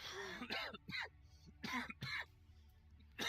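Repeated harsh coughs and throat clearing, close to the mic, in bursts separated by short pauses, with faint game sounds beneath during an online Overwatch match.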